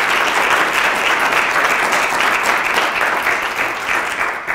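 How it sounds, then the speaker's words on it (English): Sustained, dense applause from an audience at a community district dialogue event, loud and even throughout before tapering slightly at the end. "Can we give them a hand clap?"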